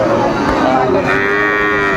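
Cattle mooing at Raniganj livestock market in Dinajpur, one loud, close, drawn-out moo with a low rumbling tone that fills the whole moment.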